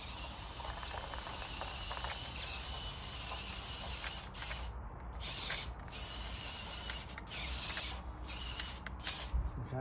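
A VEX EDR robot tank loaded with bricks drives on concrete. Its electric motors give a steady, close, high whine that cuts out and resumes several times in the second half.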